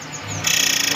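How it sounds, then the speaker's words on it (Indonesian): A caged murai air songbird sings loudly in a continuous, high-pitched, rolling melodic phrase, close and clear against a quiet background at a bird market. "Wah, ini udah gacor teman-teman. Murai air."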